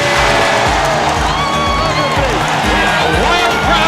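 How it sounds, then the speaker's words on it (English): Loud, wild arena crowd at the Summit cheering and whooping through a 1990s Houston Rockets NBA basketball game during an 18-point lead, a dense continuous roar with shouts rising over it. "A wild crowd at the Summit cheering on an 18-point Houston Rocket lead."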